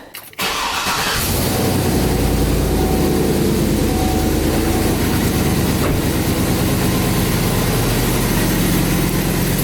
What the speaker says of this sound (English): All right, so now let's do the startup.